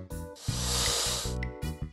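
A voice imitates a snake's hiss: one sustained, loud breathy hiss in the middle, with spoken words before and after it.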